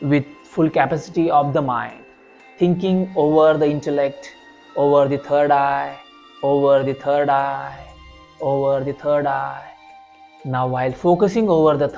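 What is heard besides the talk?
No everyday noises stand out.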